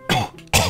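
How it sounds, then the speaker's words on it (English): Two sharp, close coughs from a person, the first longer and the second following after a brief pause, loud and alone. "Coughing all over this shit."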